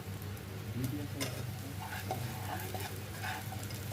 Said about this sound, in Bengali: এখন আমরা এগুলোকে একটু নাড়াচাড়া করে ভেজে নিব